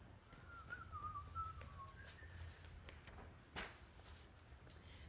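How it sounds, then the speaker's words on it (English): A narrator whistles a short, wavering melody during a storybook reading, soft and close, with faint footsteps and a door-like thump following. "closed the door, and whistled on her way to bed"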